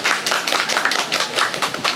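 A podcast audience at a campus sharing session claps hands in a brisk, uneven patter of many overlapping claps, moderately loud and close, lasting about two seconds with no talking.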